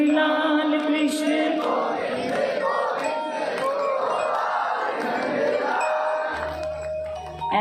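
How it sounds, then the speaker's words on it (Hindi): A crowd chants a Krishna bhajan in unison, the mass of voices loud and continuous with repeated melodic phrases, and a steady low hum rises near the end. "ऐसा लग रहा है कि भजन हो रहा है"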